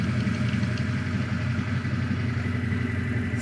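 A 1965 Ford Mustang Fastback with a Sniper fuel injection system idles steadily, a low even engine rumble heard up close with light clatter and no voices.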